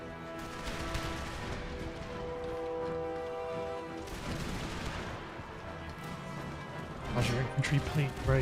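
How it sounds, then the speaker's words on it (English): Infantry musket volleys in Empire Total War, with a Maratha infantry formation firing on pistolier cavalry: scattered crackling shots and bursts of volley fire over a battlefield din, with someone talking over them throughout. "Pistoliers don't like that infantry fire."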